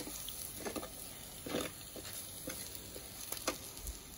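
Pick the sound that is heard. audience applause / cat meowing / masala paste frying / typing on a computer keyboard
masala paste frying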